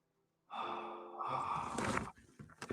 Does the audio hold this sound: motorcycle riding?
no